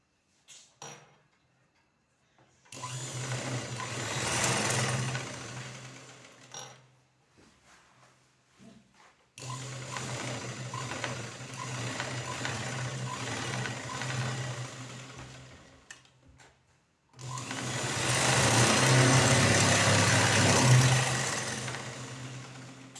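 A sewing machine whirs in three separate runs, stitching a blouse lining to a cross strip piece for a katori blouse. A low motor hum and needle chatter are close by, with quiet pauses between runs.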